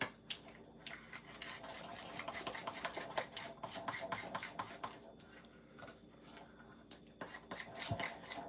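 Apple cinnamon popcorn topping mixed in a bowl, a quick run of light scraping and clinking strokes, close and fairly faint, with no talk.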